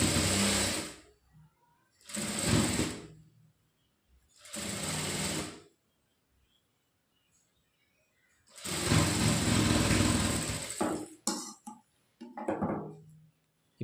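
Sewing machine stitching a blouse seam in several separate bursts, each a couple of seconds long with quiet pauses between, close and clear with no talking.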